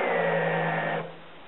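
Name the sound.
drill bit tapering a hole in wooden turkey call paddle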